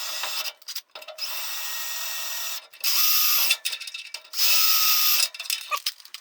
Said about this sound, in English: drill a 7/64 hole in this for the screws